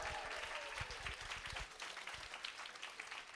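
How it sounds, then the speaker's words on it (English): Applause from a school audience for grandparents at a kindergarten stepping-up ceremony, a steady wash of many hands clapping throughout, fairly faint and distant, with no speech over it. "let's give them an applause"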